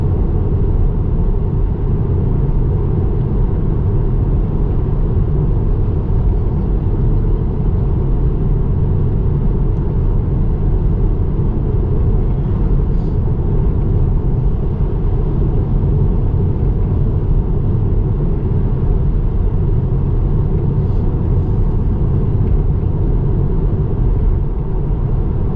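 Steady, unbroken road rumble and tyre noise fill the cabin of a Tesla driving on autopilot, a constant broadband drone at even loudness with no talk throughout.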